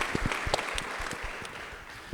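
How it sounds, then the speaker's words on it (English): An audience at a national plastics summit claps in a scattered, moderately loud round of applause, individual claps standing out for a couple of seconds. "A big round of applause for everyone who's made some pledges here today."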